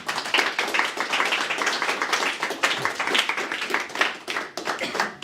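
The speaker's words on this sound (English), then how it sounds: "So let's give them a big round of applause." An audience at a startup pitch regional final in Glasgow gives dense, lively applause as judges come to the stage, sustained and close throughout with no talking.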